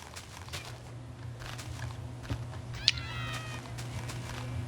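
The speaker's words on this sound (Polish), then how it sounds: "uciekający kot" A Minecraft cat meows once in a short, bright call amid game sounds and a steady low background hum, with other faint in-game noises around it.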